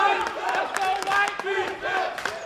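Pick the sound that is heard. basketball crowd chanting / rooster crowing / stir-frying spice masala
basketball crowd chanting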